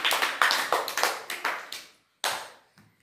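Classroom children clap in a brisk, rhythmic run of close, crisp claps that stops, followed by one more short burst and a faint trailing tap.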